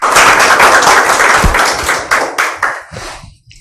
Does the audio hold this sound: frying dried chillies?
no